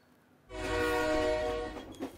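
A train runs past with its horn sounding one long, steady, loud blast over rumbling carriage noise, heard as if from someone standing in the open doorway of the moving train. The horn then fades out.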